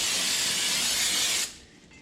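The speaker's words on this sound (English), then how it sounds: "I do have the brake rotor, so I'm just gonna give it a quick spray here." A can of brake cleaner sprayed onto a brake rotor during Mustang Cobra brake work, one loud continuous hissing burst for about a second and a half, then cutting off abruptly into quiet room tone.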